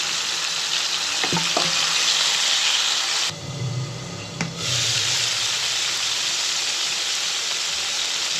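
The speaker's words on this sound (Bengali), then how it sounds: "সেগুলো একটু কড়া ভাজি করে মোড়া ভাজি করবো।" Small rohu fish fry in hot oil in a pan with a loud, continuous sizzle up close, a few clinks and stirring knocks, and a short dip in the middle.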